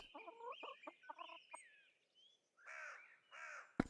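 Chickens cluck and squawk in the video game Pentiment, a close sequence of rapid, choppy calls followed by a pause and then two louder, drawn-out squawks, ending with a sharp thump.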